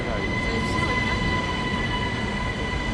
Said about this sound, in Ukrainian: О, наш потяг.